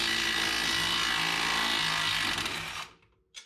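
An impact wrench runs for nearly three seconds, loud and steady, while removing the strut bolts on a Mercedes W124 front suspension, then stops and a short knock follows.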